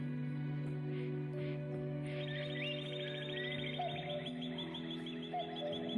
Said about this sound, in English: Listen to these birds, how happy they are.